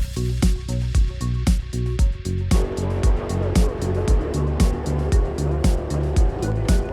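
Black turbo Dodge Challenger drag car at a Street Eliminator European finals track, its engine firing in loud rhythmic bursts up close, settling into a rougher, denser roar partway through.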